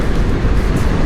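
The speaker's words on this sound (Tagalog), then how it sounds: "Lakas pala yung hangin." Loud, steady rushing wind buffeting close by while riding an e-bike on a city road, a dense roar with no pauses.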